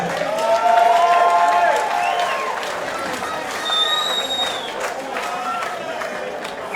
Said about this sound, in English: give the boys a round of applause, please